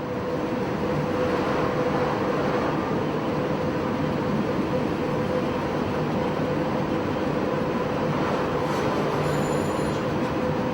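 Crocodile electric locomotive No. 3609 approaching the small Goebbelsmühle station in Luxembourg, a continuous loud rumble of wheels on rail with a steady tone and faint squeals near the end.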